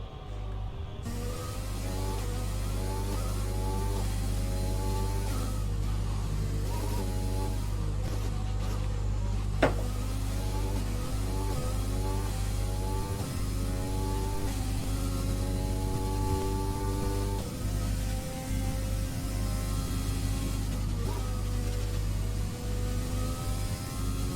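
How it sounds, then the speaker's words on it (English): A race car in a racing video game runs a flying lap, its engine note climbing and dropping repeatedly through gear changes over a constant low drone, loud and continuous with no voices. "We're now on board a Shifty 50 as they're about to start a flying lap going through turn 1"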